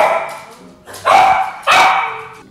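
A dog barks repeatedly on a film location, three loud, close yips and barks coming in bursts about half a second apart, with some voices mixed in underneath.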